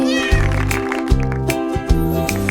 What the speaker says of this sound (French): Le chat ronronnait de joie et de bonheur.